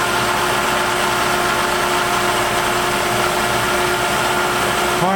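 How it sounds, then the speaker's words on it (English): A manual milling machine cuts the valve towers of a cylinder head in conventional milling, throwing chips forward. It gives a steady, loud mechanical drone with a constant whine that runs without a break and has no talk over it. "I'd rather do conventional milling, which is where you're throwing the chips in front of you."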